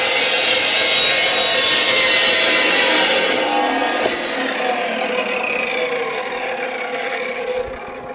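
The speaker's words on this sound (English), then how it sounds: "That is a much better way to cut pipe." Stainless steel exhaust pipe for a turbo Fairmont being cut with a saw, a loud, close, continuous grinding rasp that eases slightly toward the end, with no voices.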